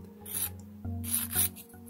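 Repeated scratchy rasping strokes of a sanding stick filing cast resin, steady back-and-forth bursts over a low hum.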